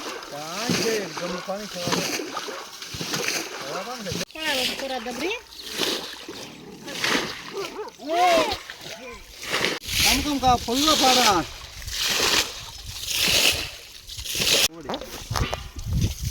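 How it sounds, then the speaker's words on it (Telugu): Water is bailed out of a fishing pond with a container, repeated splashing and sloshing scoops in an irregular rhythm, while several people talk and call out over it. "ఈ దబిల్తోనే మొత్తం నీళ్లు కూడా లోడేస్తే చేపలు ఉంటే పట్టుకోవడానికి ఈజీ అవుతుంది"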